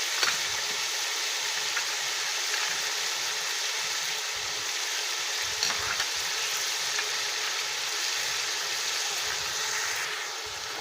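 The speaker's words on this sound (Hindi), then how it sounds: "दो मिनट तक हम इसको डीप फ्राई करेंगे" Chicken deep-frying in a pot with garlic and ginger, a steady broad hiss of bubbling oil that holds constant and fairly loud throughout, with faint low clatters beneath.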